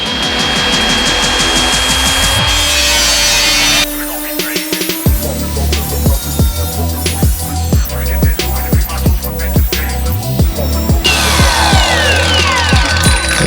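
A power tool cuts through large welds on a DIY steel workbench, a harsh grinding whine giving way to a rapid series of sharp, loud mechanical bursts, close and with no talking.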